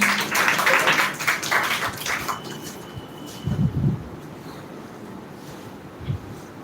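A school speaking-contest audience claps for the next contestant, a burst of dense applause in the first two seconds that thins to faint scattered claps, with a few louder thumps near the middle and end.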